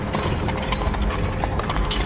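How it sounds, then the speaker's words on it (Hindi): Horses' hooves clip-clop steadily as a horse-drawn carriage moves off, a dense, continuous patter of hoofbeats close by over a broad rumbling background. "घोड़े फिर से शांत हो गए और बग्घी चल पड़ी।"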